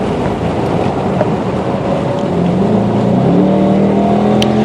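A Dodge Charger R/T engine drones steadily at top speed on a racetrack straightaway, its pitch rising gradually as it accelerates, loud and close with constant road and wind noise.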